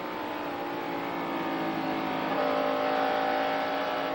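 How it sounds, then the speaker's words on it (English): Davey Allison's NASCAR Winston Cup race car at the 1991 Budweiser 500, heard from on board as he gets back on the throttle and feathers it at the bottom of turn four: a loud, steady engine roar that swells slightly. "you hear him back in the throttle and then feather it a bit right on the bottom of turn 4"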